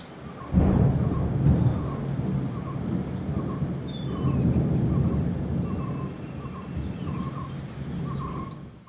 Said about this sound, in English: The rains have been relentless.